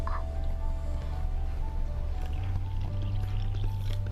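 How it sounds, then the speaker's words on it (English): Water poured into a bowl of pizza base mix during home baking, a steady low pouring and sloshing lasting several seconds, close and fairly loud. "Then we're gonna pour our water Inside."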